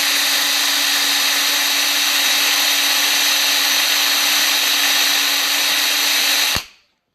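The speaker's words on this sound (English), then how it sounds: "Alright, so let me continue drilling." A hand drill runs continuously at a high, steady whine, grinding into steel for a knife, then cuts off abruptly near the end.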